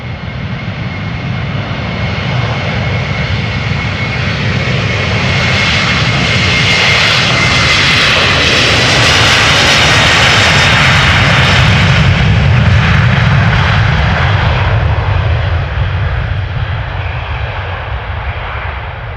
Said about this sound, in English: This is KLM flight 767 going to Aruba.